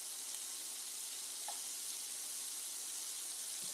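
Ground beef crumbles frying in a pan, a steady broad sizzle running throughout at low level, with a faint scrape of a utensil breaking up the meat; no talking.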